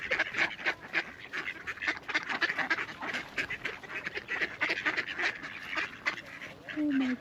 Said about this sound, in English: So this is the feeding of the ducks on the beach.